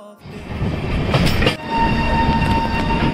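The Lucknow to Mumbai LTT Express pulls in at Lokmanya Tilak Terminus, a loud, steady rumble of rail cars with clattering wheels and a faint horn.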